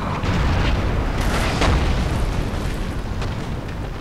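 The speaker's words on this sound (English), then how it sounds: "Artillery firing." Artillery firing on a battlefield in the video game Napoleon: Total War, a loud rolling boom of cannon fire, heavy low rumble with sharp reports that sustain and slowly fade.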